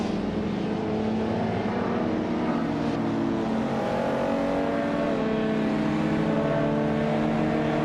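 Race cars in a racing video game, among them a 1990 Subaru Legacy RS, roar continuously with loud, steady engine drone and shifting revs throughout, with no pauses.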